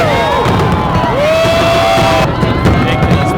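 Huge New Year's Eve crowd of some 300,000 people packed onto the Las Vegas Strip, a dense continuous roar of cheering and shouting voices with whistles and sharp pops ringing out over the din.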